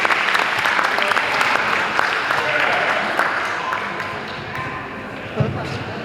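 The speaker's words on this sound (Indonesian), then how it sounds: "Tepuk tangan lagi." Audience applause at a declaration and inauguration ceremony for the officers of a Batak clan association, dense clapping that fills the room throughout and gradually thins toward the end, with voices murmuring underneath.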